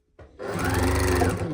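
A sewing machine stitches a fabric gift bag, starting with a short click then running into a steady fast whirring hum that holds loud and close for the rest of the moment.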